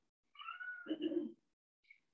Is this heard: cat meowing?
yes